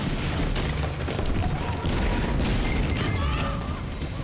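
Tank fire leveling buildings in the video game Battlefield 6: a sustained dense rumble of heavy booms and crashing debris, loud and continuous throughout with no talk.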